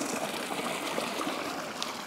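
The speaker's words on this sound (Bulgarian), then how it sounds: "Чувате си течаща вода," A river flows below a hillside plot on Bali, giving a soft, steady rushing wash of water, faint and continuous with no voices.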